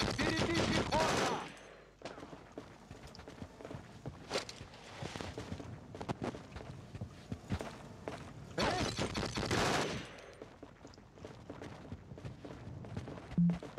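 Assault rifle gunfire in the Conflict: Desert Storm 2 video game, with dense sustained bursts at the start and again in the middle, scattered single shots and footsteps between them, and a voice faintly present.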